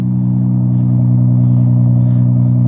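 Toyota Solara exhaust while driving down the road, a steady, loud, low droning hum with a strong even tone and faint clatter, constant throughout the short stretch with no talk.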